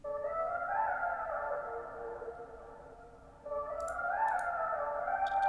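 A jazzy synth melody processed through a tape delay plugin with a pitch-shifting fifths preset, playing two sustained, wavering phrases with faint clicks near the end and no talking.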